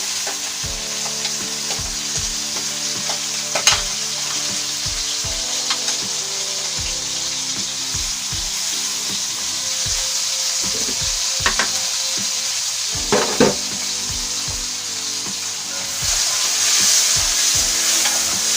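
Bori (lentil dumplings) and tomato frying in a little oil for an eggplant and prawn curry, a steady close sizzle broken by repeated scrapes and knocks of stirring, with the frying growing louder near the end.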